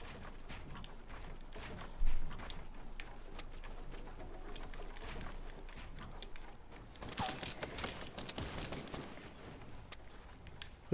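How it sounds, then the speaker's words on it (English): Gunfire crackles in the Fortnite video game: sharp, rapid shots in scattered bursts over a busy background of movement and mechanical noise, with one louder burst early on and clusters of quicker fire later. "Who's shooting at me?"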